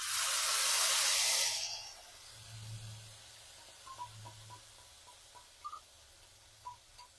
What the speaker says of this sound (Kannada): ಇದು ಗೋಡಂಬಿ ಫ್ರೈ ಆಗೋವರೆಗೂ ಸ್ವಲ್ಪ ಕಲರ್ ಚೇಂಜ್ ಆಗಲಿ